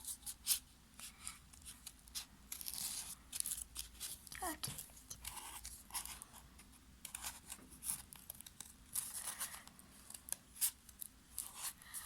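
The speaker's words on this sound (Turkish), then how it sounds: "bir şekilde kesiyorum" Scissors snip through paper while shapes are cut for kirigami, a run of short, close crisp cuts and rustles coming in uneven bursts over a faint background hiss.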